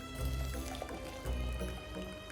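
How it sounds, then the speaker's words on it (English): Two cups of boiling water pour onto tea in a measuring cup, a continuous close liquid splash and gurgle with a slight pause partway through, fairly faint overall. "I have my tea in my measuring cup and I'm gonna put 2 cups of boiling water onto it."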